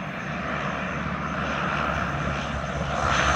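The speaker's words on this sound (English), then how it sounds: "I believe that's the skydiving plane" Propeller skydiving plane flying near Danielson Airport in Connecticut, a steady droning engine roar that holds close and loud throughout and swells slightly at the end, with no talking.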